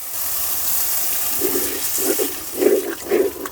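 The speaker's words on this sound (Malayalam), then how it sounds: "ഇനി നമ്മൾ കുടംപുളി അല്ല വാളംപുളി അത് പിഴിഞ്ഞൊഴിക്കുന്നു" Tamarind pulp squeezed and poured into a simmering village-style kalanji fish curry, a loud watery splash and gush building in short bursts toward the end.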